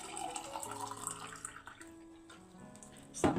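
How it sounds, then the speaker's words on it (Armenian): A full glass of water, close to 300 ml, is poured into a small blender, giving a soft, close trickling flow that eases off and ends with a brief clunk. "Վերցնում ենք ուրեմն բլենդերը, փոքրիկ, մեջը լցնում ենք 1 բաժակ ջուր։"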